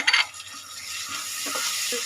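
Chopped onion frying in a pan for chicken curry, a soft steady sizzle with a brief scrape of stirring at the start and light utensil clinks, close and alone.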